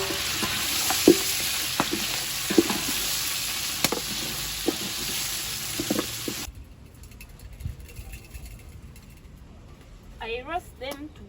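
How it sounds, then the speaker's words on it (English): Ingredients roasting in a pan for a village meal on a special day, a steady broadband sizzle with scattered clicks and stirring knocks for about six seconds, then the sizzle drops away to a quiet room with faint voices. "I roast them to bring out that at least a good smell."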